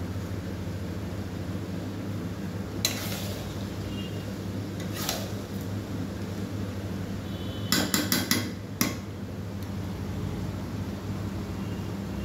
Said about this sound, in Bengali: আর একটু কষে নিই আলুগুলো।